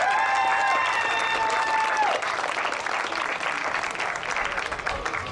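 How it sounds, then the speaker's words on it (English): A crowd claps steadily for several seconds, with a few whistles at the start before the applause gradually thins. "Give them a round of applause, everybody"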